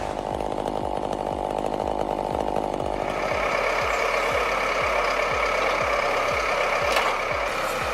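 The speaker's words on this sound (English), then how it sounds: "Seeing her handle that roaring chainsaw around a burning tree with such calm focus is absolutely legendary." A roaring chainsaw cutting around a burning tree stump, loud and close with a rhythmic pulsing engine note throughout, the pitch rising as the saw bites in partway through.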